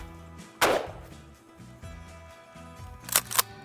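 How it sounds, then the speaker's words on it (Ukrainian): A single sharp bang of a less-lethal cartridge fired from a pump shotgun near the start, followed by faint mechanical clatter and two quick clicks near the end; no voices. "Друге це звук травматичного патрону."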